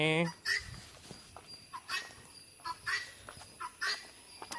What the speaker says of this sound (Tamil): கிண்ணிக்கோடி அம்மா வந்து ரெண்டு பயங்கரமாக கத்திக்கிட்டு இருக்கு